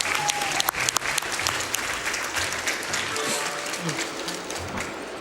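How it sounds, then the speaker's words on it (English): Applause from a crowd at a Zelda: The Wind Waker Randomizer speedrun event, a steady patter of clapping with a few sharper claps early on, moderately loud and continuing for several seconds. "let's get a round of applause for Lago for his incredible work on the Wind Waker randomizer"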